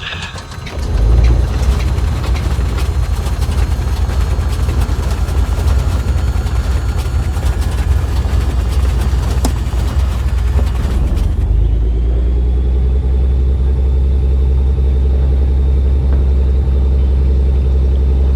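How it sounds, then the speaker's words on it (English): Simulated Beechcraft Baron 58 left engine starting in X-Plane 11: a loud cranking rattle builds for several seconds, then settles into a steady low idle drone. "It's adding the fuel to prime the engine, and it should be starting up."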